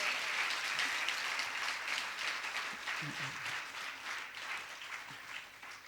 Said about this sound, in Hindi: तालियां कमजोर है, जितना हाउसफुल है